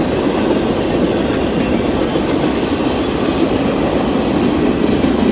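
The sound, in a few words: freight train passing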